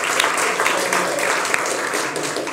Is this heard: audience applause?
yes